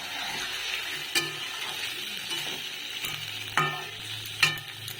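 Shankar fish sizzles and fries with onions in a pan on low gas, producing a steady soft crackle under occasional clinks and scrapes of a utensil against the pan, with no talking.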